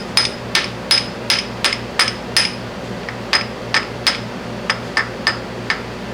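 Light metallic taps of a hammer nudging a machined part into alignment on a machine tool, a series of evenly spaced strikes, a short pause, then more taps, heard close over a low steady hum.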